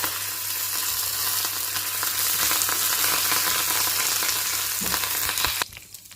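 Loud, steady sizzling of spices tempering in hot oil for a moong dal dish, crackling throughout, then cutting off abruptly near the end.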